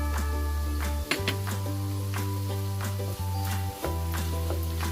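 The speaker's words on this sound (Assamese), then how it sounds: "মছলাখিনি ধুনীয়াকৈ ভজা হৈ গ'ল" A spice masala with red chili powder and coriander powder fries in a pan with a dense, continuous sizzle while a spoon stirs it now and then, all heard close up and steady over a low hum.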